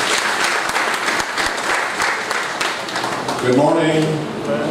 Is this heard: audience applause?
yes